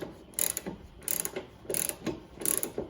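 A ratchet wrench tightening a mower blade bolt on a John Deere Z235, four short bursts of rapid clicking at an even pace, close and clear with no talk.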